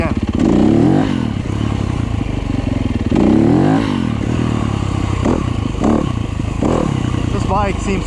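A Yamaha YZ250F motocross bike engine runs loud and close, revving up and down repeatedly with rising and falling whines and some clatter, and a voice is heard over it.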